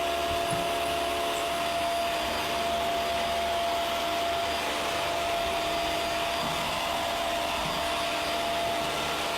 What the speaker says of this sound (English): do you mind if I turn the vacuum on?